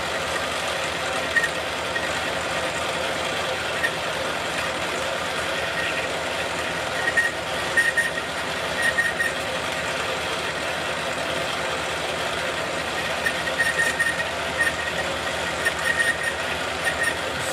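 A machine turns at 280 RPM cutting a sheetmetal roller part, producing a steady low mechanical hum with faint intermittent ticks and light chatter from the cut.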